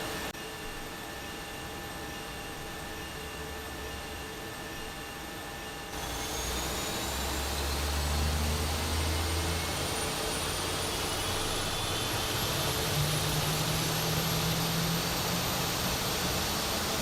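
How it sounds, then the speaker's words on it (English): Airbus A220 jet engines spooling up inside MSFS 2024, a steady broadband roar that grows louder partway through, with a rising whine climbing over it and no voices. "Let's have a little look over here at the engines. Listen to them rise, shall we?"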